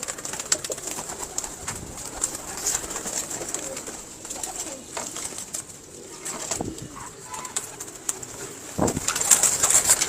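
Strong-footed pigeons handled indoors give steady cooing and occasional wing flaps over a constant background hiss, with a louder burst near the end.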